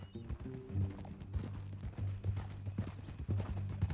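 Horse hooves clip-clop steadily on the ground in Red Dead Redemption 2, a regular walking rhythm with a low droning ambience underneath and no talking.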